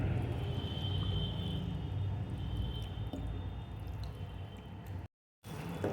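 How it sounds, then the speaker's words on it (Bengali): Water pours into sizzling masala in a pan for egg do-pyaza, giving a steady wet hiss and bubbling that runs nearly unbroken, with a brief silent gap near the end. "এবার এতে দিয়ে দেবো প্রয়োজন মতো জল।"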